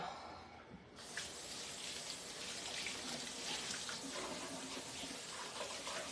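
After a quiet second, a kitchen tap bursts on and runs steadily into a mixing bowl, a constant close hiss of flowing water with no talking.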